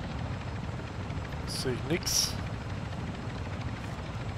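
Helicopter in the video game DMZ, Al Mazrah, arriving at a landing zone: a steady low rotor rumble fills the whole stretch, with gunfire-like bursts and a brief spoken remark in the middle.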